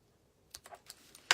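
Scissors snipping ribbon while a bow is trimmed for a handmade card: a few short, light crisp clicks close up, ending in a sharper snip, with no talking.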